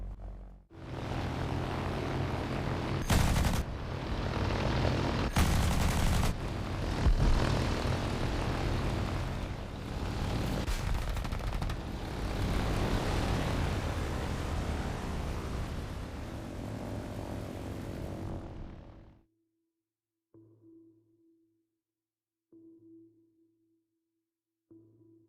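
A propeller fighter plane's piston engine roars in a loud, sustained drone with a few brief surges, then cuts off abruptly, followed by several short, faint tonal beeps in near silence.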